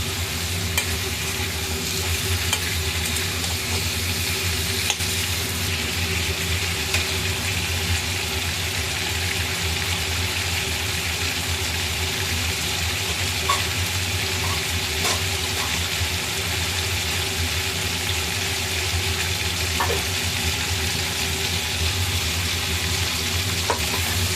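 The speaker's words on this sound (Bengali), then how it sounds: "এই মুহূর্তে আলুটাকে ভালো করে ভেজে নেবে।" Potato pieces fry in a pan for a vegetarian aloo dum, a steady dense sizzle with soft scraping stirs throughout, close and constant, with no voices.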